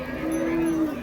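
A bull at the Vaniyambadi open cattle market gives a single loud, close moo lasting about a second, low and drawn out over a murmuring market background.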